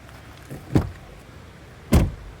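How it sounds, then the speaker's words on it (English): A car door opens with a thunk and then shuts with a solid, heavier slam about a second later, close up in a quiet space. "Let me open and close this door, and we'll find out."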